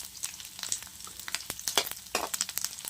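Pork rind chicharon frying in oil over medium heat, a steady close crackle with sharp pops and bursts of spattering sizzle, louder near the end, no talking.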